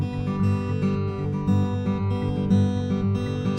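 Fingerpicked acoustic guitar playing a steady pinch pattern with every eighth note filled in, bass and treble strings sounding together in an even, continuous rhythm, close and clear with no talking.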